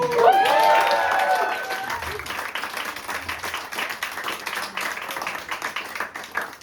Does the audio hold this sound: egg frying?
no